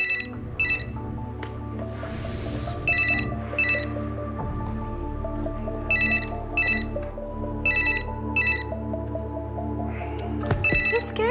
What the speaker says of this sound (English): I'm going to answer this phone